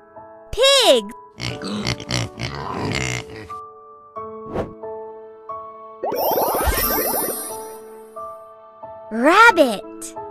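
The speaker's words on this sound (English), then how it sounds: "Pig." A pig grunts and oinks in a short, rough burst partway through, mixed among chimes, playful sound effects and a voice naming things.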